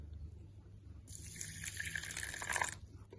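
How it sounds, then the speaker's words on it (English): Water pours steadily into a bowl for a couple of seconds, a bright splashing rush that starts abruptly and then stops, with no talking. "Now I will add some water to it."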